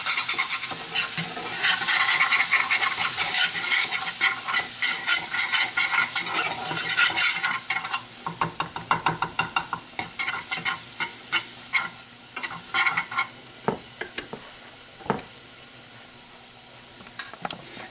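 A spoon stirs a roux of melted butter, hot mustard and flour in a hot pan, giving steady scraping and gentle sizzling. The sound is dense at first, then turns into sparser, distinct scrapes and clicks toward the end, with no talking.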